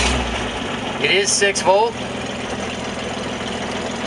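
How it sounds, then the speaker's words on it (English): A 1934 Chevrolet truck, semi-restored and driven daily, sits at a low, steady idle with a 6-volt electrical system, its engine rumbling close and even beneath a brief spoken remark. "Let's start this thing up."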